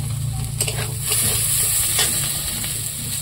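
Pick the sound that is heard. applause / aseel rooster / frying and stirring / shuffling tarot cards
frying and stirring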